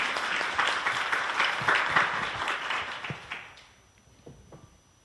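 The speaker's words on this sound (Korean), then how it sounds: "큰 박수 부탁드립니다." Audience applause at a corporate culture-and-arts forum in 2012, dense clapping at steady volume for about three seconds before thinning out into a few scattered claps.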